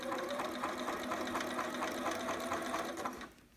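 A sewing machine stitches over a seam on a romper, a close steady whirring run with quick regular needle pulses that tapers off at the end, no voices.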